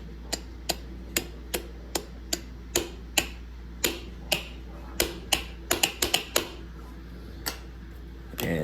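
Fingerboard wheels of red G8 material make sharp, clacky clicks, about twenty taps in irregular rhythm, some in quick bunches, heard close over a steady low hum.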